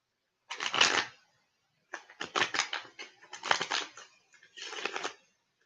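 A Smith-Waite tarot deck is shuffled by hand for a reading, with four separate bursts of crisp, close riffling and brief pauses between them, and no voices.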